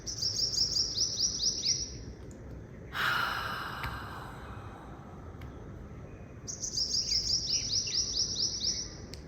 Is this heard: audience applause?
no